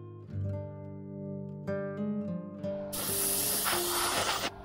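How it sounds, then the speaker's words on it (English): Spray paint hissing onto a small swimbait lure, opaque black coat, a steady airbrush-like spray starting partway through and continuing loudly over low background hum. "Now we're gonna start painting, and we're gonna start with an opaque black."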